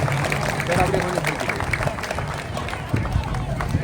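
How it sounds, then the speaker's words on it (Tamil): Crowd applause at an Ulama council gathering in Athugala, Welikanda, Polonnaruwa: a dense, steady wash of clapping that fills the whole stretch, with voices talking through it. "உங்களுடைய கரகோஷங்களை தெரிவித்து"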